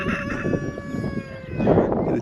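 Chickens cluck and a rooster crows nearby at a campsite, the calls overlapping in a busy, steady farmyard chorus with outdoor background noise.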